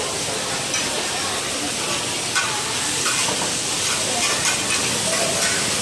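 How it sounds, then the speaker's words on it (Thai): Fried mussels cook in a large pan at a night market stall in Lamphun with a loud, constant sizzle and hiss and occasional stirring scrapes. "ทอดนี้ทอดเป็นกระทะใหญ่ๆเลยนะครับ"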